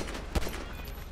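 Gunfire in the video game GTA V Online: one sharp shot cracks out over a busy, low background of game noise, with fainter pops around it.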